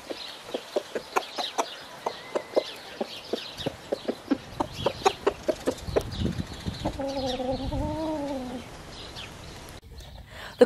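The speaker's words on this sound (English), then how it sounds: "This is one of our cockerels called Doodle, and he's demonstrating both the noises and the actions." A cockerel named Doodle gives a rapid run of short clucking food calls to his hens, close by and fairly loud, with a longer wavering call near the end.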